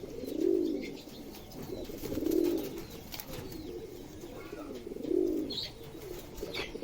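Fulsiya Madrasi pigeons coo softly at a farm, three separate low rounded coos spaced a couple of seconds apart, with faint chirps between them.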